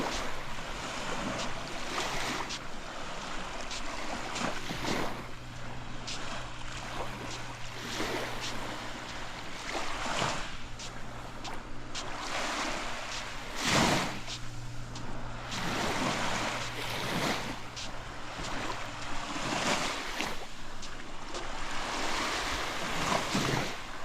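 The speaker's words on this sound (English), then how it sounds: "Some of the waves come in farther than others." Lake waves wash onto a sandy shoreline in a park, surging and receding in an irregular rhythm, some breaking louder and reaching farther than others, with wind in the background.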